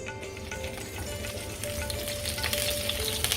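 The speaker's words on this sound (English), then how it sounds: "Into this oil, the pan is nice and hot. I'm going to put some lemongrass in there." Lemongrass hits hot oil in a pan for Balinese spicy fish, giving a steady crackling sizzle that stays loud and close throughout, with no talking.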